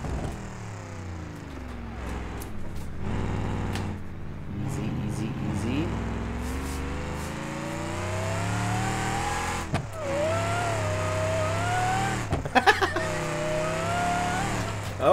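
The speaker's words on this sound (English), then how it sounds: "Listen to that supercharger whine" A vehicle in the BeamNG driving game revs and accelerates off-road, its supercharger whine rising and falling over engine drone, with a sharp impact and someone talking over it.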